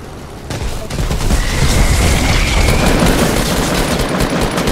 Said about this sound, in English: Someone's shooting at us, I think.